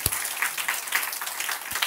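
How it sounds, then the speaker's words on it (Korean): A church congregation claps in praise at a Korean sermon. It is a brief, dense round of applause at moderate volume, with a couple of sharper claps standing out. "주님께 영광의 박수 돌리겠습니다."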